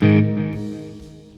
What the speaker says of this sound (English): I'm going to take that delay, which you can hear over here